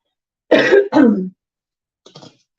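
Two quick, close throat-clearing coughs in a row, followed by a faint short rasp after a pause.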